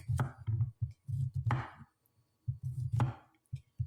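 A knife chops vegetables for a stir fry on a board, with close, sharp rhythmic clusters of thuds in short bursts separated by brief pauses.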